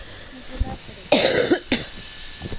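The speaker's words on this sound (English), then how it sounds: "sorry about the cough" A single loud, harsh cough bursts out near the microphone, followed shortly by a second shorter cough, with quiet room noise around them.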